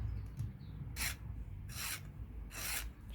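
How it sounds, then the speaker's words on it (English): Three rhythmic rasping strokes of a hand tool chamfering the inside edge of a bore in a metal milling vice stop, close and fairly quiet, each stroke a short scraping burst. "chamfer on the inside edge"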